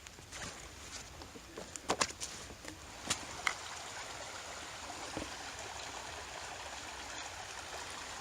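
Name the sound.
stream water flowing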